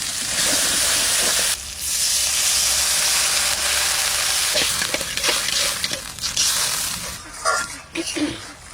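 Water poured into hot oil and fried spice paste of turmeric and Kashmiri chili powder erupts in a loud, harsh sizzling hiss for Bengali cabbage kofta curry, roaring steadily for several seconds before subsiding into bubbling and utensil clatter.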